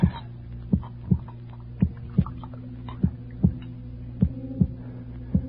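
A beating heart sound effect in a radio drama throbs in a slow, steady double-thump rhythm over a low continuous hum, loud and close, with no voices.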